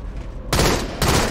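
Gunshots in the Halo 2 Anniversary video game during a Team Swat match: two loud, close bursts of gunfire about half a second apart, each a dense, sharp blast with a ringing tail.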